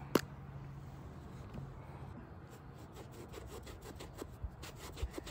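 Sponge applicator from a shoe cleaner kit scrubbing a leather shoe, faint rasping back-and-forth rubs with a few small knocks, close and quiet with no talk.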